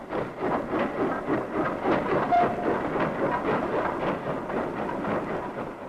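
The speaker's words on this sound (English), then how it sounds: "trains are forced to slow down and crawl along the uneven track." A train crawls past up close over uneven track, its wheels thudding in a slow, rhythmic clatter over the rails, steady and heavy with no voices.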